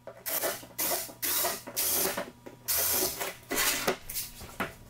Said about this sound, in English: Now drill all of these marks that you had located.